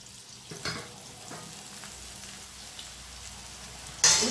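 Boondi batter frying in hot oil for a spicy kara boondi snack, a soft, continuous crackling sizzle with a few sharper spatters and a louder burst at the end, close and alone.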